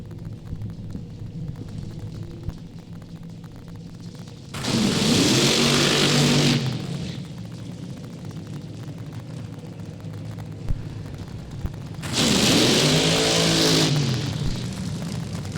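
Nitro drag racing cars at Mo-Kan Dragway fire their engines in two loud, roaring bursts of about two seconds each, standing out over a steady, lower background rumble.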